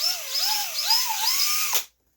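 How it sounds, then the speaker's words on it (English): A drill motor bores a starter hole in a Zippkits JAE 21FE V2 outrigger wood kit, giving a close, loud whine whose pitch wavers up and down before cutting off abruptly, followed by silence. "I can still adjust it slightly with this drill"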